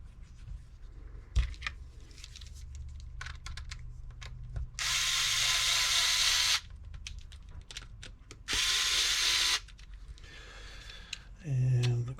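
A power drill drives screws back into a workpiece in two sustained whirring bursts of a second or so each, close and loud, with scattered handling clicks and knocks between them.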